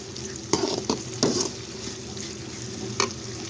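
Garlic, onion, green chillies and curry leaves fry in oil in a pan, a steady close sizzle broken by a few bursts of stirring and clinks.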